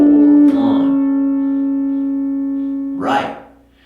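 Pedal steel guitar plays a short intro phrase on strings 4 and 6 with the B pedal engaged and released, one sustained, clear tone held between two picked attacks, close and alone.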